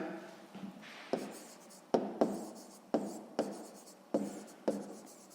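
Handwriting on paper, close scratchy pen strokes in short repeated bursts with small pauses between, quiet and clear with no one talking.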